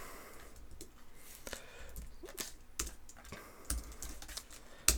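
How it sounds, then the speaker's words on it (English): Typing on a computer keyboard while writing code, a steady patter of key clicks with a few sharper strokes and no talking. "let me finish typing this out"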